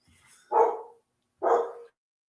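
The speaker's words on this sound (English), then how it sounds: "Thinking of dogs barking." A dog barks twice at moderate distance, two fairly loud, drawn-out barks about a second apart, with no talking.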